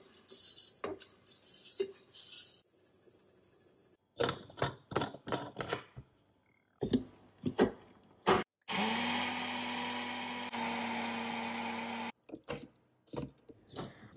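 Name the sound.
grinding toasted cumin and coriander seeds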